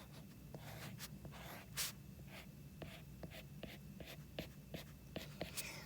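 A pen or marker scratches across paper while a neuron is drawn by hand, quiet irregular strokes and short squeaks repeating steadily, close and faint with no talk over them.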